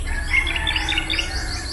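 Birds chirp and tweet in a quiet, windless forest, with repeated short high calls at a steady moderate level over soft ambient background.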